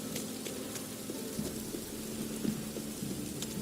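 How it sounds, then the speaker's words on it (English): Steady in-game rain from The Witcher 3: Wild Hunt hisses across the whole stretch as a continuous wash, with faint scattered drips and low rumbling textures underneath, no voices present. "If it don't stop raining, my arse will rot off"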